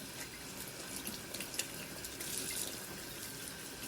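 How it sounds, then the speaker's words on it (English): Tap water runs steadily into a kitchen sink while cornhole bags are rinsed under it, a continuous close splashing hiss with small drips and no talking. "But I'm actually gonna rinse it as well."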